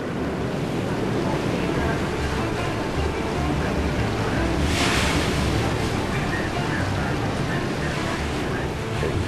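A gale gusting around 70 knots howls over heavy sea surf, with waves crashing and churning continuously in a loud, dense roar.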